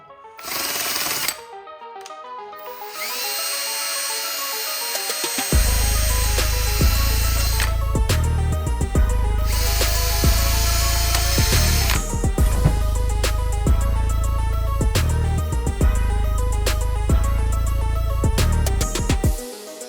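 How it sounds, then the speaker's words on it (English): A flap wheel on a power tool grinds a part from a 6.0 Powerstroke turbo, a loud continuous abrasive whine with rhythmic pulsing as the wheel bites, after a brief spin-up, close and steady with no talking. "we're going to hit it with a flap wheel here."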